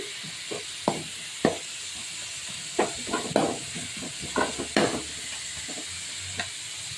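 Spinach (palak) frying in hot oil for a chicken palak gravy, a steady sizzle broken by repeated stirring scrapes and knocks of a spoon against the pan, close and moderately loud with no talking.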